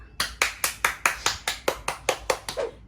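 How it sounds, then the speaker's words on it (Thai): Steady rhythmic clapping during a product-unboxing review, about a dozen crisp, evenly spaced hand claps, close and distinct, from one or a few people. "ขอเสียงปรบมือค่ะ"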